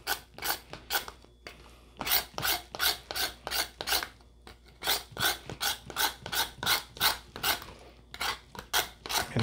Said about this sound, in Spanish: Que pelar bien nuestro palito.